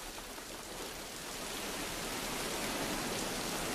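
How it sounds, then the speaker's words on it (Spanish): Heavy rain driven by wind pours down on a pilgrims' route near the Marismillas pine woods, a dense, steady roar that builds slightly and fills the whole stretch without a break. "Pero la fuerte lluvia y el viento los vuelve a sorprender."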